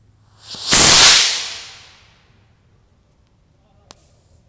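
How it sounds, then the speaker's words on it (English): A small F-sized rocket motor burning potassium nitrate and sugar candy propellant ignites with a sudden loud roaring whoosh. It rises to full force at once and fades over about a second, and a sharp click follows a few seconds later. "Light the rocket."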